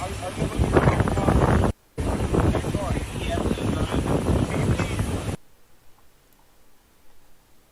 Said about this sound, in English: With nothing but wind noises over it.